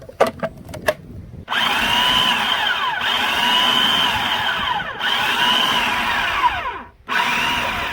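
A food processor grinding raw salmon for burgers, loud and close, running in steady whirring pulses with brief stops between them, after a few clicks at the start.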